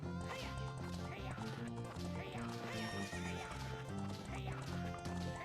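Galloping horse in The Legend of Zelda: Ocarina of Time 3D, with rhythmic hoofbeats and repeated whinnies layered over loud game music.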